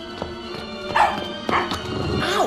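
Snowy the dog in The Adventures of Tintin video game barks in three or four sharp, close yaps spaced about half a second apart over a faint background hum.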